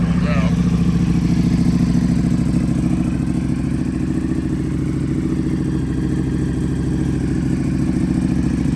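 A 2025 Ducati Panigale V4S fitted with an Akrapovič full exhaust system runs steadily close by, its engine a continuous low, throbbing drone with a brief higher sound near the start.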